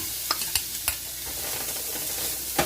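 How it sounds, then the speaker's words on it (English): Onions and garlic frying in extra virgin olive oil for a chicken curry stew, a steady close sizzle with a few sharp stirring clacks of a utensil against the pan. "adding about 2 to 3 tablespoons of extra virgin olive oil. And I'm going to start off onions and garlic."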